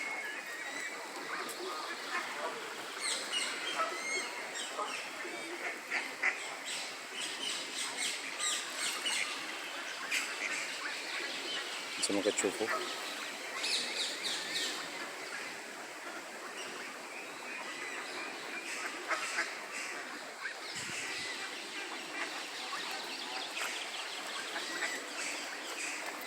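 Ducks, geese and other birds call in a city bird park in Düsseldorf, their scattered cries mixed into a steady wash of running water while someone talks over them.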